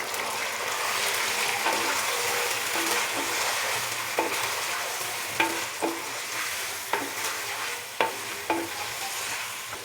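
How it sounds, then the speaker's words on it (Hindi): Chicken frying and being stirred in a pot while cooking an aloo chicken curry, a steady close sizzle with scraping spoon strokes that turn into sharp, regular clacks in the latter half. "चिकन डालने के बाद अभी हम चिकन को भून लेंगे 4 से 5 मिनट के लिए"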